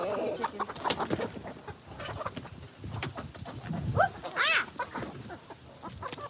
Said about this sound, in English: giving leftovers to chickens